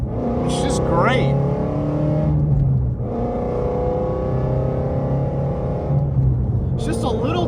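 A Shelby GT350R 2.0 drives with a loud, droning exhaust that holds steady throughout, with revs rising and falling in two brief bursts, and a voice talks over it.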